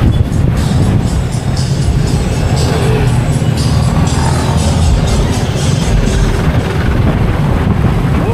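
Strong wind on a road in North Caloocan ahead of a storm roars and buffets the microphone in a constant, loud rush with no pauses.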